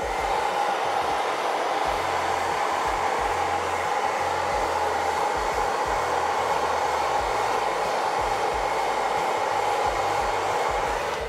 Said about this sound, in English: I'm gonna hit this miniature with the blow dryer and I will not be muting my microphone